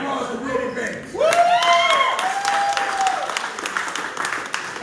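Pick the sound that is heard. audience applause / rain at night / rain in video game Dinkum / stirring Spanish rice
audience applause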